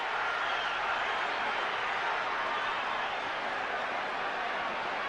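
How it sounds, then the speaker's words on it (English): A boxing arena crowd roaring during a Mike Tyson fight as he presses the attack, a dense, steady wall of distant cheering noise with no clear individual voices. "Listen to the crowd."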